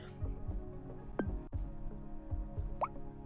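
Plop sound effects from the GeoGuessr browser game when a guess lands in the ocean: a few short wet drip-like blips over a constant low background, with a quiet sharp click midway.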